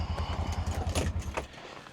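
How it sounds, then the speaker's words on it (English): A BLZ Ranger 60 UTV side-by-side engine idles with a steady low pulsing rumble, then cuts off and winds down into near quiet, with a faint clink near the end. "Let me cut the side-by-side back off."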